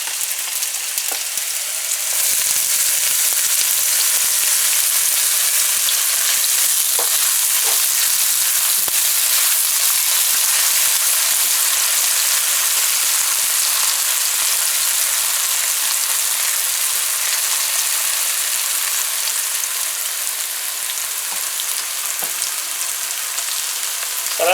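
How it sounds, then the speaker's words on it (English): Tomato, onion and seasonings frying in hot oil in a pan, with a loud, steady, close sizzle that carries on unbroken and has no talking over it. "our oil is hot, my friends, and we're gonna add our seasonings, tomato and onion,"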